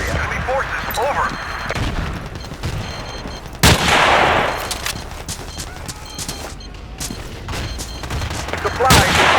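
Battlefield 2 combat with artillery fire: a heavy blast strikes partway through amid scattered gunfire and rattling shots, over a continuous din of battle noise, with radio voices calling out.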